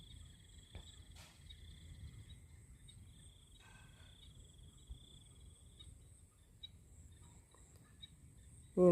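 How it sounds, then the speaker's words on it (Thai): Frogs call in rice fields as a faint, steady, high trilling chorus heard from a distance, with an abrupt loud burst right at the end. "เสียงกบ เสียงเขียดเนาะ ตามทุ่งน้องทุ่งนา"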